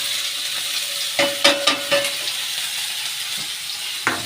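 Hot oil frying in a kadai, an even background sizzle broken by a few sharp clinks and scrapes of a utensil against the pan, followed by a quieter hiss.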